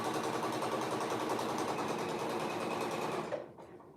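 A sewing machine runs steadily, stitching the shoulder portion of a garment facing. The whir is continuous and close, then stops abruptly near the end.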